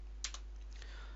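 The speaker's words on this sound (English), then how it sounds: "So I can just type print." A few quick, light keystrokes on a computer keyboard, typing a short command in a quiet room with a steady low hum underneath.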